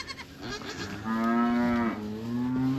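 Cattle lowing on a flooded farm, a long loud close moo holding steady through most of the stretch, with fainter calls and barnyard background before it.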